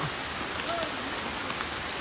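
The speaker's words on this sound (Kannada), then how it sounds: "ನೋಡಿ ಫುಲ್ಲು ಮಳೆ ಇದೆ." Steady, dense rain hisses in a dense forest near Dudhsagar across the whole clip, a continuous wash of drops hitting surfaces with no voices.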